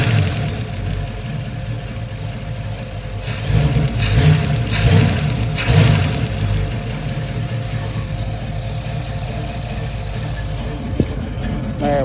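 A V8-swapped Ford Ranger engine idling steadily with a low rumble, close and fairly loud, with a brief rise in revs in the middle before settling back to a smooth idle.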